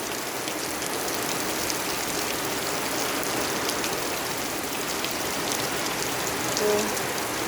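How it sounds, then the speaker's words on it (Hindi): Heavy rain pours down in a strong village storm with wind, a dense, steady hiss of water that stays loud and even throughout, with faint voices now and then. "तो दोस्तों बहुत तेज आंधी पानी दोनों साथ में आवा बा।"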